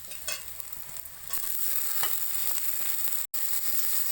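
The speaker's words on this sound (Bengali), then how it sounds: "এবার আমরা সেই তেলেতেই পেঁয়াজ টমেটো দিয়ে আমরা ভালো করে ভেজে নেব।" Chopped onion and tomato frying in hot oil, a close, continuous sizzle and crackle with occasional stirring scrapes, loud and steady throughout without any voices.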